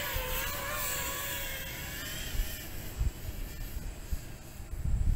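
An FPV drone on a cheap replacement frame, its motors holding a hover at low throttle: a close, whining buzz with sliding tones that sways slightly, while some thumps and knocks come through underneath.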